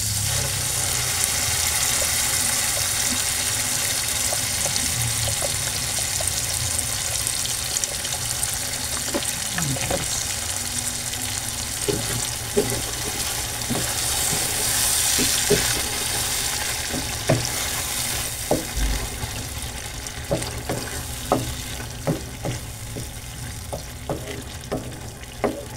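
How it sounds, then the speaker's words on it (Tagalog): Carbonara sauce goes into a hot pan and is stirred, giving a constant loud sizzle and hiss punctuated by irregular sharp taps and scrapes of the utensil against the pan, with no talking. "Lagyan na natin itong ating carbonara sauce."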